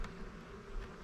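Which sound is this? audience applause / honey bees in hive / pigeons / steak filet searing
honey bees in hive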